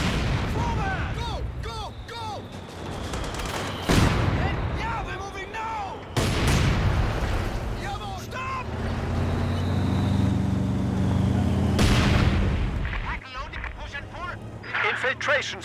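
Artillery barrage in Company of Heroes 2: several heavy booming blasts land one after another, each with a long rumbling decay, mixed with gunfire, vehicle rumble and battlefield radio voices.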